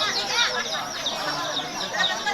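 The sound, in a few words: chicken clucking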